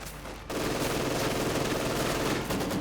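Maxim machine gun opening fire in the video game Company of Heroes 2, a dense, sustained rattle of rapid automatic shots that starts abruptly and runs steadily at close range, with a brief dip near the end.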